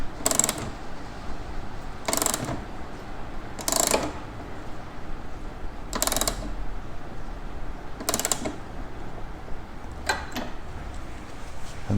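A standard ratchet wrench tightens a bolt on SW-Motech crash bars being fitted to a Kawasaki Versys X300 motorcycle, giving short bursts of clicking spaced about two seconds apart, close and fairly faint against a quiet background.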